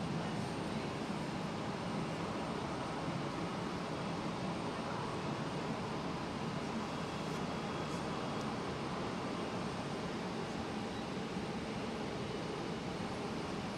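An Embraer airliner at Hamburg Airport, a steady, broad engine roar that holds at an even, moderate level throughout with no clear rise or fall.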